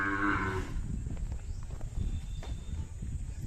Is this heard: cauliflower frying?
no